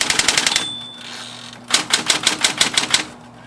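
A Smith Corona portable electric typewriter types in quick rattling bursts of sharp keystrikes. A short pause with a faint motor hum separates the two bursts, and the sound is close and loud.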